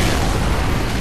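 A pipe bomb blast in Left 4 Dead 2, a loud, dense roaring rumble of explosion noise filling the whole short moment, close and unbroken, with no clear speech.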